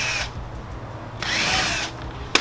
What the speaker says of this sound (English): Get your first holes drilled as a reference point